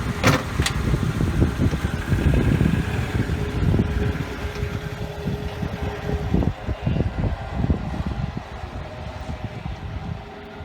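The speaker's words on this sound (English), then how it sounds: "I'm gonna go ahead and pull the car out, put it back in the garage" A 1992 Acura Integra LS sedan's engine runs nearby as the car is driven out, a steady low rumble with some wind-like noise and faint clunks and rattles, and no talking.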